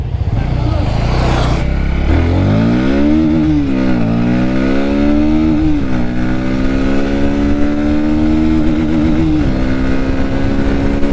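A Bajaj Pulsar NS 160 motorcycle on a test ride, its engine loud and close, revving up and down through repeated rising and falling pitch sweeps as the rider accelerates and shifts, with a brief burst of wind noise near the start.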